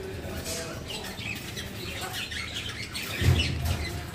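Caged birds for sale at a bird farm in Jamshedpur chirp and tweet in short bursts, with someone talking over them throughout.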